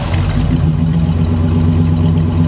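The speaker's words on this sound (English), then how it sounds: "I love the sound of the exhaust." A close, throaty exhaust from a 1940 Chevy burbling and rumbling steadily at a low pitch, with a slight rise as the engine revs, no voices.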